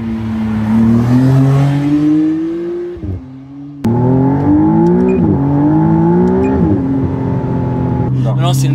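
Twin-turbo 3-litre V6 hybrid engine of a McLaren Artura roaring under hard acceleration, loud and close, pitch climbing through gears with brief dips at shifts and a short lift near the middle, then pulling hard again.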